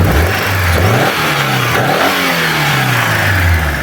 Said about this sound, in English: The idle drops kind of normally,